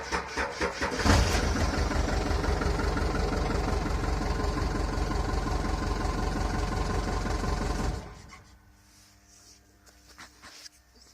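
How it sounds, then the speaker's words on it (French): A Fenwick forklift in an abandoned safety-shoe factory starts with a rough crank and settles into a steady, loud idling rumble for several seconds before cutting off, leaving quiet room noise. "Le Fenwick tourne, comme vous constatez."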